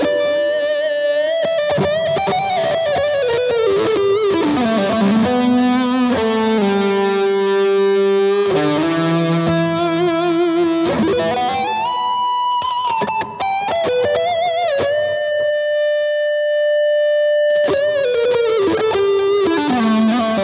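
An electric guitar plays through a Blackstar Silverline amp with KT66 valves, a touch of reverb and analog delay, producing a continuous distorted lead line with bends and sustained notes, loud and upfront without any voices.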